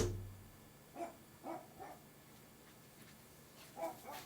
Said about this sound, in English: I can still hear him barking out there